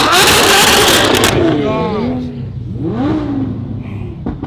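A sports car engine roars loudly, then revs down with sweeping pitch, while people talk over and after it.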